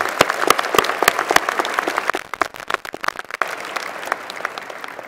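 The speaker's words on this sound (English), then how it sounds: "Let's give him another round of applause." A crowd at an engineering school commencement ceremony applauds steadily, with a dense patter of many hands clapping at once, fairly loud and continuous throughout.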